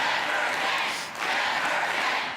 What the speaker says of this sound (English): The crowd chanting "never again," and with tears in her eyes.